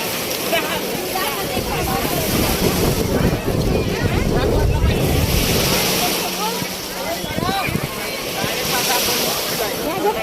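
Sea waves wash steadily onto the shore at Rameswaram as pilgrims gather near the water, a continuous broad rush blended with wind buffeting the microphone and a murmur of people in the background.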